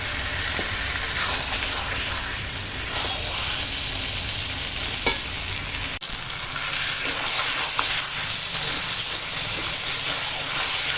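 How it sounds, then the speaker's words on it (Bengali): Chicken meat being slowly sautéed in a pan for a light potato curry, with a dense continuous sizzle and hiss and faint stirring scrapes. The sizzle stays loud and close throughout, without any talking. "তার জন্যই মাংসটাকে সুন্দর করে কষিয়ে নিচ্ছি"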